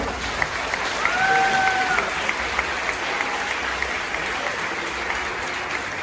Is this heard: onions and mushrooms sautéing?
no